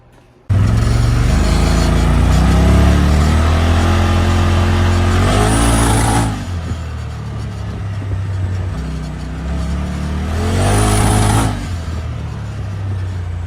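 A Polaris RZR Turbo S engine with a misfire idles and revs in two loud rising bursts, its rough, uneven rumble close by with a hissing whoosh at each peak.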